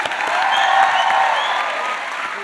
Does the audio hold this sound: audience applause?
yes